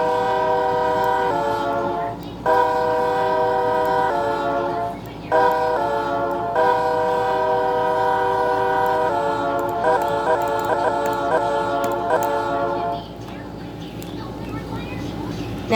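A BNSF C44-9W locomotive sounds its chord horn loudly and up close in several long blasts separated by short gaps, ending with a choppier run of quick toots.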